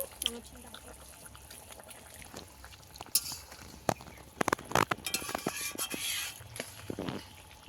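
Fish curry with snakehead fish simmering in a pot, a low bubbling patter broken by a few sharp clinks and stirring knocks, with faint voices in the background.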